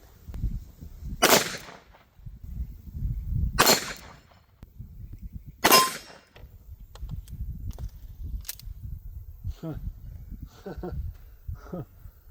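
Colt Peacekeeper revolver fires three loud, sharp single-action shots at an outdoor range, each spaced a couple of seconds apart, followed by a fainter metallic ring and clicks, with some low background talk.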